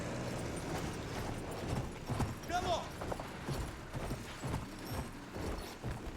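Horse hooves clip-clop in the medieval battle game Mount & Blade, a rapid galloping rhythm mixed with battle noise while a voice shouts over it.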